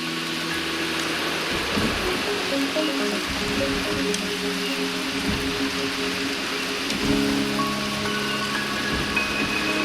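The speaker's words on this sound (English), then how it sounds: "The rain is subsiding, and the sky will soon clear." Rain falls in a Wuthering Waves game scene as a steady, moderately loud hiss of drops, with faint tonal game ambience and a few soft low thuds underneath.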